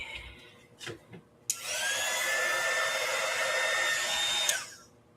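A heat tool switches on and blows steadily for about three seconds during mixed media crafting, a close whooshing fan drone with a faint whine, then cuts off; a few small bumps come before it.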